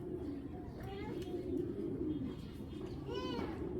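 A racing pigeon coos nearby in short, low rolling calls, heard a few times beneath someone talking.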